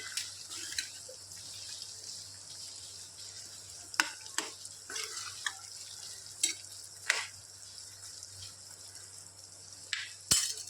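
A spoon stirs diced potato and tender bean pieces in a pan, soft scraping and scattered light clicks over a quiet, faint sizzle, with a few sharper knocks near the end.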